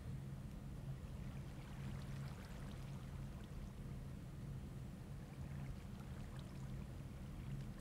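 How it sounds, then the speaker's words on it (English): A water block placed in Minecraft while building an XP grinder, heard as a steady, even wash of flowing water with a low hum beneath, constant and unbroken for the whole stretch. "here I am placing this block of water"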